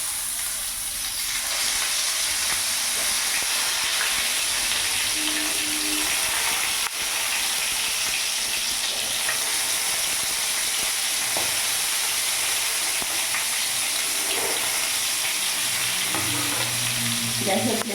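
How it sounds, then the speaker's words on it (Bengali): Eggplant slices fry in hot refined oil in a pan over a medium gas flame, giving a steady, dense sizzle with some faint clinks and bubbling near the end. "রিফাইন অয়েল গরম হয়ে গেছে, এখানে আমি এক একটা করে এইভাবে বেগুন দিয়ে দেবো।"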